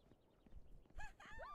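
Cartoonish goose honks from Untitled Goose Game, a few nasal bursts near the end following quieter game sounds, loud and close with no talk over them.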